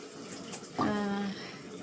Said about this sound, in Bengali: দেখো তরকারিতে জল ঢেলে দিল